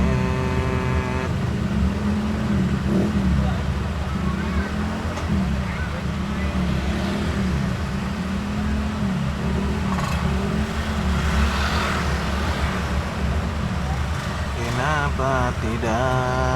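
Road noise in a traffic jam on Jalan Cikoneng, Bojongsoang: a steady rumble of idling cars and motorcycles with engines revving now and then, loud and close, with people talking over it.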